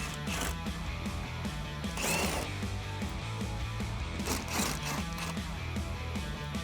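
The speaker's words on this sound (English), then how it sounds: "I'm gonna use my impact gun and extension along with a T15 bit." An impact gun with an extension and a T15 Torx bit backs out screws on a 2016-2018 Silverado 1500 headlight area, firing in a few short, loud rattling bursts over a steady background.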